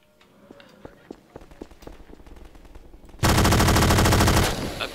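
Halo 4 SAW machine gun in Garry's Mod: after scattered single shots and footsteps, a loud, dense sustained burst of rapid automatic fire rings out for over a second, then cuts off.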